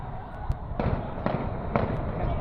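Gunfire crackles in sharp, repeated bursts during street unrest on the night of July 19, 2024, several loud cracks a second apart ringing out over a noisy background.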